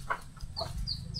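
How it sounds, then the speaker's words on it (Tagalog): Chickens and chicks give soft, faint clucks and peeps against a low background hum on a small farm. The calls are brief and scattered, with no one talking. "Ito mga chicken, tigda dalawa lang yung sisiw."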